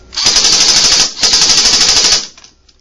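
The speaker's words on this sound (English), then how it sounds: "Not quite as fast of a firing rate as the AK, but very steady fire rate." An Echo 1 M4 carbine airsoft gun fires on full auto in two steady bursts, the first about a second long and the second slightly longer, with a rapid, even rattle, loud and close, with no talk.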